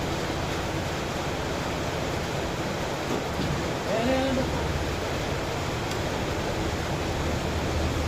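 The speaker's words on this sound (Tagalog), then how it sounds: "kung kailan kalakasan ng ulan ang alis nila" Heavy rain pours down steadily at a Filipino home at night, a dense continuous hiss filling the scene, with a brief faint voice-like tone in the middle.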